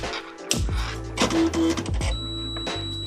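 A Panasonic KXP1124i dot matrix printer powers up with a run of mechanical whirs, clicks and a short buzzing tone, loud and close in a quiet room.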